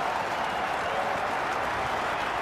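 A stadium crowd at Newlands applauds and cheers Brian Lara's six during the 2003 Cricket World Cup match against South Africa, producing a steady, dense wash of clapping and roar throughout.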